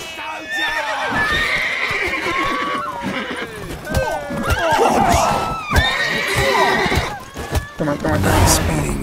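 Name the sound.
horse neighing in video game The Witcher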